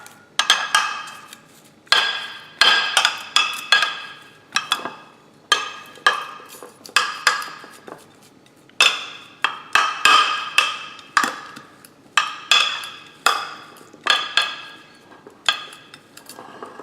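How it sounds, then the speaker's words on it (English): A spatula presses and taps keto multi-seed bread dough flat, producing a series of sharp clinking, slapping strikes, a few in quick bursts, then decaying, repeating irregularly for the whole stretch with no talk. "now I'm going to flatten it with my spatula here."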